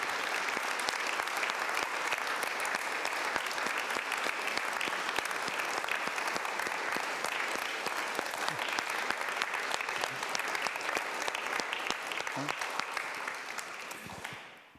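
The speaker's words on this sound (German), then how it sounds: "Applaus." Loud, sustained applause from a large audience at a formal public forum event in Augsburg, steady dense clapping for about fifteen seconds that fades out at the end.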